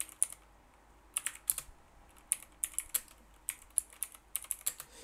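Touch typing on a computer keyboard, crisp scattered key clicks in irregular bursts, close and fairly quiet, with no talking.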